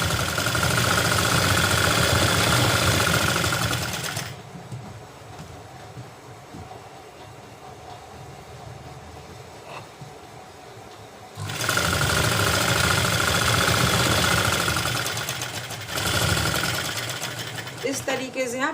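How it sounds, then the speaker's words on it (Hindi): A sewing machine stitches a plazo in loud, steady runs of rapid whirring, stopping for a long quieter stretch before starting again twice near the end. "इसी तरह से आप सिलाई करते जाना है"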